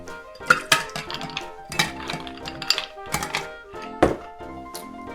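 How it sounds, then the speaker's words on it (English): Ice cubes for a coconut daiquiri dropped into a metal shaker, several sharp clattering thunks and clinks in uneven bursts, close and loud with no voices. "Add your ice."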